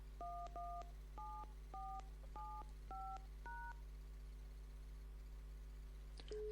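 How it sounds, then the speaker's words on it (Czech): A telephone number is dialed on a keypad, eleven short DTMF beeps in an uneven rhythm over a faint steady hum, followed by a brief electronic burst at the end. "Zadejte cílové telefonní číslo a zmáčkněte mřížku."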